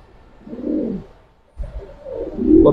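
Afshan Bagha pigeons, a running breeding pair with club tags, coo in two close, soft rumbling phrases separated by a brief pause, the second rising louder toward the end, with no speech.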